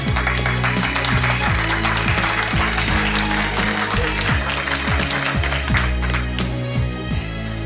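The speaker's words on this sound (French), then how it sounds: "vous venez de vous applaudir vous" A group of training-program participants applauding in a room, continuous clapping layered over loud rhythmic background music with a pulsing beat, the claps blending into the dense mix.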